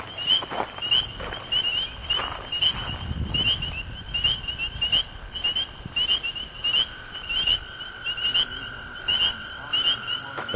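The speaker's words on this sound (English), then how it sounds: "Froggies." Frogs call from a small swamp area at Moody Pond in the evening, a chorus of repeated chirping croaks and trills spread across the marsh, some nearer and some distant, running steadily with light rustling and footsteps underneath.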